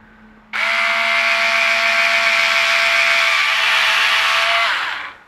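A power drill bores into a Fender Telecaster guitar body during a custom build, a loud close whine starting abruptly, holding a steady pitch for about four seconds, then winding down.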